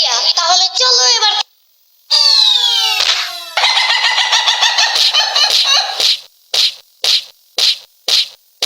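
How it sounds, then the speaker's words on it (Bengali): A hen squawks and clucks loudly while defending her chick from being grabbed. Long, shrill, wavering cries give way to a run of short, sharp clucks in quick bursts. "মুরগির বাচ্চা ধরলেই মুরগি কামড় দেয়"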